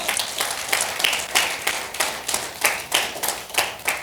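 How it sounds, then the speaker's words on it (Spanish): Rhythmic unison clapping from a church congregation at a Spanish-language service, sharp beats arriving roughly every third of a second, steady and moderately loud. "Denle un fuerte aplauso al nombre de Dios."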